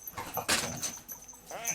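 A dog gives a few short whimpering whines indoors at moderate loudness, with some background talk mixed in.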